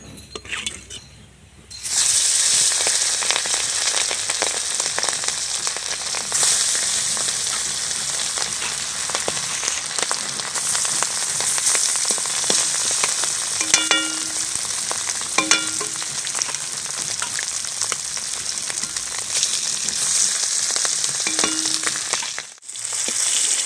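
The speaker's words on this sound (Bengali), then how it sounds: "বাকি মাছগুলো আমি একই রকম করে ভেজে নেব।" Hilsa fish pieces frying in oil, a loud steady sizzle that starts after a brief quiet moment and runs continuously, with a few light clinks of a utensil against the pan.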